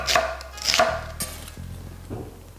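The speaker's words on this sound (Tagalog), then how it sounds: "Sibuyas. Hinihiwa ko lang ito ng manipis at ng pahaba." A knife cuts onion into thin lengthwise slices on a board, giving several crisp chops in an uneven rhythm, close and alone with no talk.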